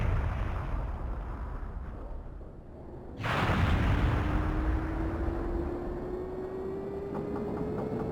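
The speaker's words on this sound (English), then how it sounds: "That cannon we ran through, it just exploded." A cannon explodes in the video game Skies of Arcadia, a sudden heavy blast cutting through a steady roaring background, followed by a sustained rumbling boom and a slowly rising tone, with no talk.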